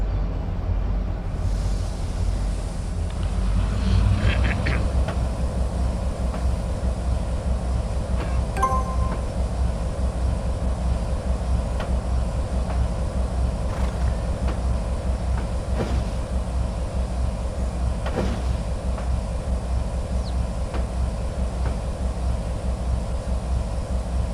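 Diesel locomotive reversing slowly in the Trainz 19 rail simulator, a steady low engine rumble with faint rail and wagon clanks and a few brief squeaks throughout, no talking.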